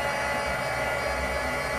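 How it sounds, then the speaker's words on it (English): A plugged-in heat gun blows with a constant, loud broadband whoosh and hum, steady throughout with no talking. "I've just plugged my heat gun in"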